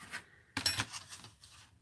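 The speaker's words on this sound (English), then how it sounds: "I always have to do a couple cuts with my utility knife" A utility knife slices through a large sheet of art material in a short scraping rasp, one quick drawn cut after a faint earlier stroke, close and quiet.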